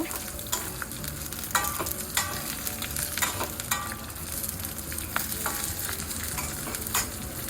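Green chilies frying in a pan, a steady close sizzle broken by scraping stir strokes and small sharp pops, with no talking.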